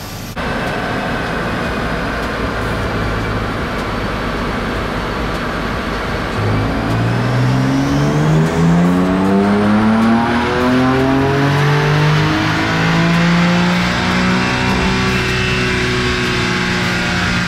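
A stock car engine revs up steadily and loudly on a dyno, its pitch climbing through the gears and holding high, with no talking.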